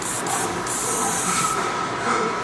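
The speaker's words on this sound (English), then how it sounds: "It's enhancements and holding spray." Holding spray hisses in one loud continuous blast onto hair during a low drop fade haircut, steady and close for the whole stretch.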